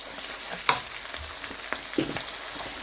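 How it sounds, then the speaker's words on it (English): Onions stir-frying in hot oil for a vegetable soup, a steady close sizzle with a few scattered clicks and scrapes of stirring, no voices. "I'm just going to stir fry the onions for a while"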